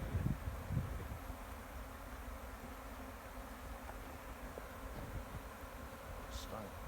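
A honey bee swarm in New Zealand hums as a low, steady drone throughout, fairly faint and continuous, with a few closer buzzes and light handling noises.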